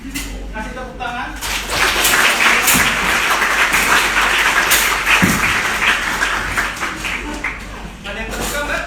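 Audience at an earthquake shelter-drill training session claps steadily and loudly for about eight seconds, a dense broadband patter with voices murmuring underneath.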